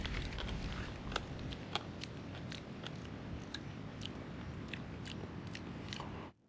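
Raw mangrove shellfish is chewed and swallowed up close, with wet crunching bites and squelching mastication repeating irregularly over a soft steady background hiss, ending abruptly.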